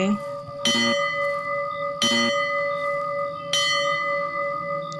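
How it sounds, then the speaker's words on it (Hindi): A bell rung three times in the horror game Brahmaraksh, each strike a bright metallic clang with a long ringing sustain, spaced evenly over a steady droning background. "यहाँ पर घंटी है, इसे हम लोग बजा सकते हैं।"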